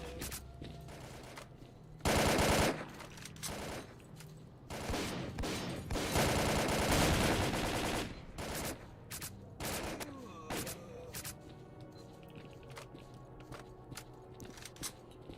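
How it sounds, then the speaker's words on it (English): Sniper rifle fire in the S.T.A.L.K.E.R.: Call of Pripyat shooter, with loud cracks and dense bursts of in-game gunfire clustered between two and eight seconds, then scattered single shots and footsteps trailing off. "It's a sniper rifle."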